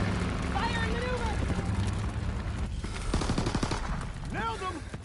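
Dense, continuous gunfire from a Call of Duty WW2 match, rapid automatic bursts and rattling volleys over constant low rumble, with in-game voices calling out during the shooting.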